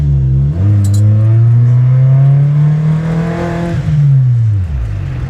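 A Nissan G20 accelerates hard in a pull, its engine note climbing steadily in pitch for about four seconds before the revs drop away. The sound is loud, close and continuous, with no talk over it.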